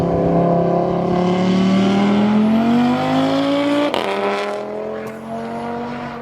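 An Audi RS3 running a straight-piped custom Bull X exhaust accelerates with a loud rising five-cylinder howl, shifts with a sharp crack, then fades as it pulls away.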